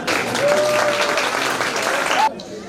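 An audience claps loudly and continuously at an içli köfte cooking competition in Malatya, the applause running for about two seconds before stopping abruptly, with a voice faintly over it.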